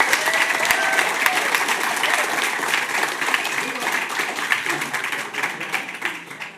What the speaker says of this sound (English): could hold applause